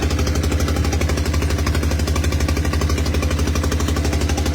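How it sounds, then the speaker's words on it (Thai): A tractor engine runs loudly and steadily at close range, with a heavy, rhythmic low-pitched chug and clatter throughout, alone with no voices. "เสียงรถไถดัง"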